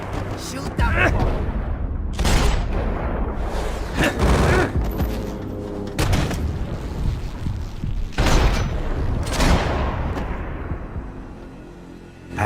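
Loud bursts of gunfire and booming impacts ring out in the Max Payne 3 video game on PC, repeated volleys spread across the stretch with voices shouting between them.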